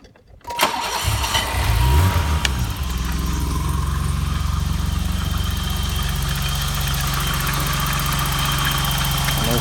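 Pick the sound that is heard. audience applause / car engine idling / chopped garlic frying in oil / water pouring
car engine idling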